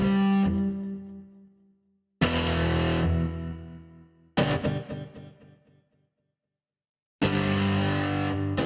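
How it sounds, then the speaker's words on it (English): Heavily distorted electric guitar power chords ring out in bursts, each chord sustaining and decaying before a short silence, loud and gritty. "Let's add some distortion."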